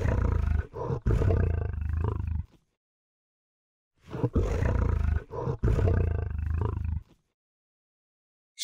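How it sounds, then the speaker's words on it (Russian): A lion roars loudly and close, two long, full-throated bursts separated by a pause of silence, with a third beginning at the very end. "Лев рычит."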